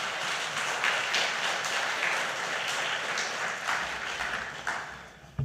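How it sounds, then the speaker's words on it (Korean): A church congregation applauds at an evening peace prayer meeting, a steady wash of many hands clapping at moderate distance, continuous and fairly even before ending abruptly. "박수로 인사드리겠습니다."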